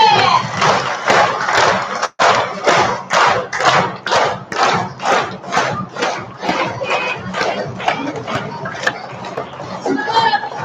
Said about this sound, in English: I want you to stomp your feet like this. Stomp, stomp, stomp. Everybody clap your hands.